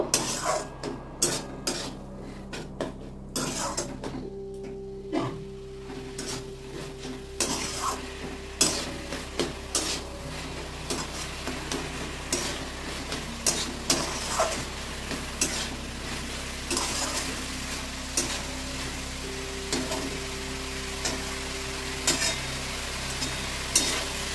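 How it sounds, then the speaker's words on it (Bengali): Cashews and raisins fry in a pan for carrot halwa, a steady sizzle broken by regular scraping strokes of a spoon stirring against the metal, close and continuous, with a low hum in the background. "কাজু কিশমিশ দিয়ে এবার কষিয়ে নেব।"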